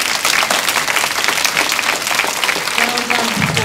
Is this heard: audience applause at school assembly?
yes